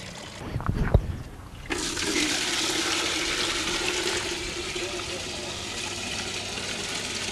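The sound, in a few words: water draining in a clockwise whirlpool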